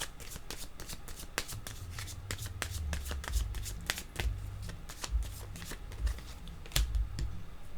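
Playing cards are shuffled by hand in quick riffles and soft flicks, with crisp papery clicks repeating steadily at close range, fairly quiet and with no one talking.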